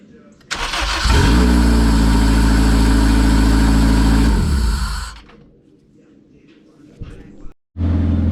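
A K-swapped EM2 Honda Civic engine cranks and catches, then idles steadily and loudly for several seconds before shutting off, leaving faint background noise.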